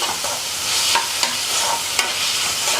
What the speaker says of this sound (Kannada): ಇದು ಇನ್ನು ಈ ಥರ ಎಲ್ಲ ಚೆನ್ನಾಗಿ ರೋಸ್ಟ್ ಆಯಿತು ಟೊಮೊಟೊ ಈರುಳ್ಳಿ ಎಲ್ಲ